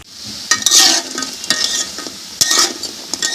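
Lentil fritters (dal bara) fry in hot oil with a dense, bright sizzle, while a utensil stirs and clinks against the pan in several sharp taps over the steady crackle.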